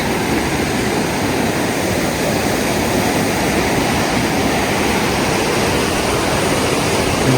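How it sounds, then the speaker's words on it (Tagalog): A strong current of river water rushes through a forest, a constant, loud, broadband roar that stays close and unbroken, with no voices. "Lakas ng agos ng tubig."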